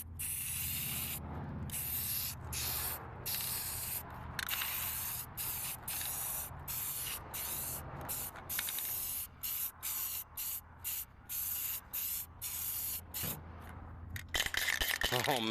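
A spray paint can lays a first coat on a plastic truck grill. It gives a close, steady hiss that breaks into a run of short, evenly spaced bursts.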